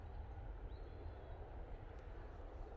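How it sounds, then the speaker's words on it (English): A Ryanair jet arriving from Milan at Manchester Airport, a steady distant low engine rumble and roar holding evenly throughout, without talk. "Ryanair it's just come in."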